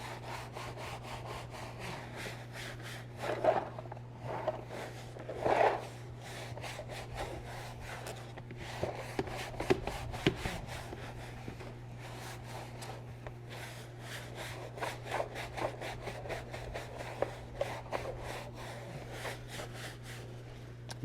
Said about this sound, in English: Now it's going to get down in all the fine nooks and crannies that the stiffer brush was